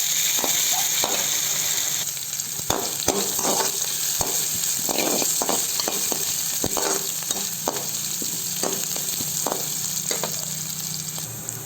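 Mustard seeds, asafoetida, onions and curry leaves sizzle steadily in hot oil for a red chilli dal curry, a constant close crackle broken by sharp pops and spatters, with no talk.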